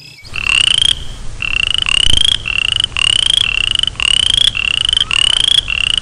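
Boreal chorus frog calling from a swamp, a loud, close series of rising, rattling trills repeated in quick succession with short gaps between them.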